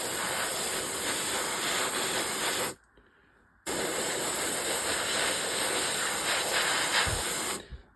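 An airbrush sprays AK silver paint onto a 1/48 Arma Hobby Sea Hurricane model kit with a constant close, airy hiss that stops for about a second and then resumes.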